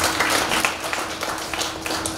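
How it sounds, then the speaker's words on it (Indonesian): Audience applause at a retirement ceremony in Bontang, Indonesia, a dense, steady patter of many hands clapping at moderate loudness, sustained with no voices. "Tepuk tangan buat beliau."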